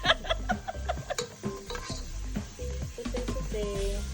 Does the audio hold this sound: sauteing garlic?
yes